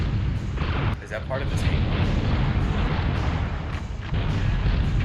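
Tank cannon fire in the video game BattleTanx: Global Assault, heard as loud, continuous rumbling booms and blasts that carry on throughout, with people talking over the action.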